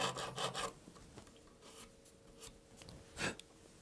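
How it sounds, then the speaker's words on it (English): A fine metal file rasps in the slot under a guitar nut, giving quiet, close scraping strokes in short bursts, with a clearer final stroke near the end. "Clean the slot under the nut. You can use a fine metal file for that."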